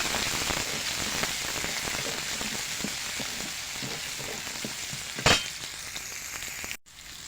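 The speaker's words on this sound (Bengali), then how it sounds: "সবজিগুলো নাড়াচাড়া করে ভেজে নেব।" Vegetables frying in a pan hiss steadily while being stirred, with scattered clinks and scrapes, a sharp loud knock near the end, then a sudden cut.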